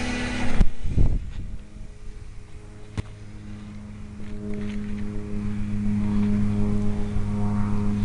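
Electric motor of a Radian Pro RC glider running at full power, a steady buzzing whine that builds gradually and holds, heard outdoors from a short distance after a couple of handling knocks.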